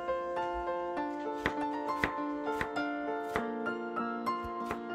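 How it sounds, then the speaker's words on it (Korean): A knife finely chops green onion on a board in a string of sharp, quick taps at an irregular pace. The taps are close and soft beneath steady music. "대파는 잘게 다지고"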